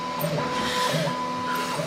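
A printer runs steadily with a continuous mechanical whir and hiss, plus a few faint tonal whines rising and falling, close by and without talk.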